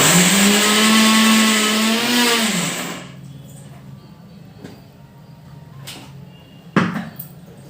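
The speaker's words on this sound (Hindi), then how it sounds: "जब तक ग्राइंड हो रहा था" Mixer grinder running on squeezed soybean, a loud high whine that holds steady, then slows and winds down after a few seconds, followed by quiet kitchen clatter and a brief knock.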